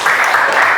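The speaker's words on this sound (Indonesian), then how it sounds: "Beri tepuk tangan dong untuk kita." Short burst of audience applause, dense and steady at moderate loudness throughout, with no talk over it.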